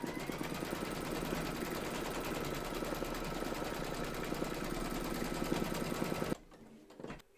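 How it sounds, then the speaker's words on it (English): An embroidery machine runs steadily and loudly, stitching an in-the-hoop reindeer towel topper, its rapid needle chatter continuous until it stops abruptly near the end, leaving a few faint clicks. "Pop your hoop into your machine and stitch round number 12 to secure them."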